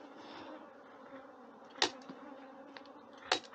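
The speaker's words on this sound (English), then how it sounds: "the bees are getting out of the hive through the tip of the cone" Honey bees buzz steadily as they exit a hive through the tip of a cone escape, a continuous close drone with two sharp brief knocks partway through.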